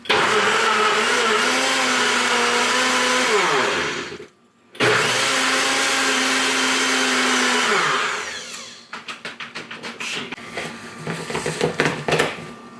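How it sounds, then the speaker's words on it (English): A small NutriBullet blender whirs loudly and steadily, cuts out briefly, then runs again before winding down into clattering rattles. "My trusty NutriBullet. Just press that."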